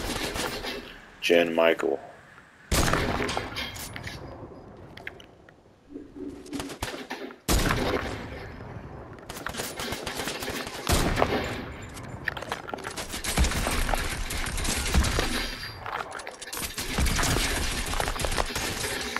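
Gunfire from a laser-type gun in the video game Fortnite crackles in sharp bursts and sustained volleys, interrupted by pauses, while players talk over it.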